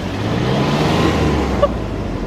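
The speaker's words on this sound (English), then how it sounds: "Are you going to give us a little, you know, rev?" Car engine rumbling with a low idle and slight revving, close and fairly loud, alone for a couple of seconds with a short sharp blip near the end.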